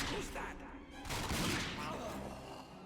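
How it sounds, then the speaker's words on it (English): Gunfire from the first-person shooter game Rage: dense, loud, continuous blasts that swell and ebb across a few seconds, with speech partly blended into the mix. "That man just got shot in the back of the head."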